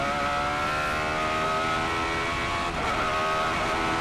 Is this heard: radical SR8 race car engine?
yes